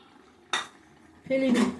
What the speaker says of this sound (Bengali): ওইটাকে আমি জল দিয়ে ধুয়ে কড়াইয়ের মধ্যে দিয়ে দিলাম